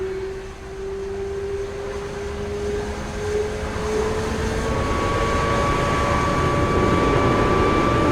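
A Lockheed F-104 Starfighter jet engine howls steadily and loudly for several seconds, with rising and gliding tonal whines over a broad roaring rush.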